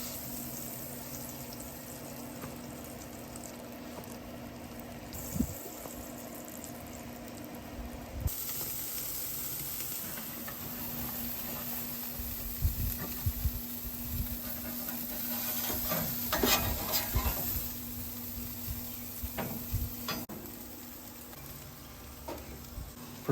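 Burgers and butter-toasted brioche buns sizzle on a Weber kettle grill, a steady frying hiss with scattered pops and crackles throughout, moderately loud and close, with no talking.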